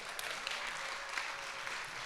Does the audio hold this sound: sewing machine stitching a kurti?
no